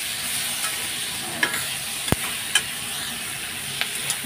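Frying food with green chilli and cumin powder being stirred in a pan, a soft continuous sizzle with a few light spatula scrapes and taps, close and fairly quiet.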